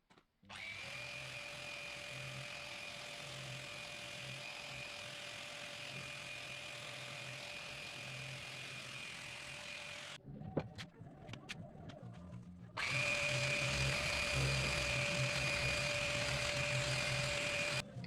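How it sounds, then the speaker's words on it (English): A power sander works a reclaimed wood tabletop with a steady, loud whine that runs for about ten seconds, pauses briefly with a few knocks, then starts again even louder for the last five seconds. "I touched up the tabletop with the sander."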